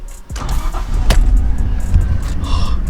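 Nissan Stagea 260RS with RB26 engine revving close and loud, a deep rumbling surge with a sharp snap partway through.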